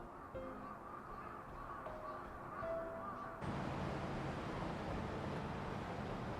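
Crows in the Persona 5 Royal video game caw a few times at moderate distance over a low ambient hum, and a broad rushing wash of noise cuts in halfway through.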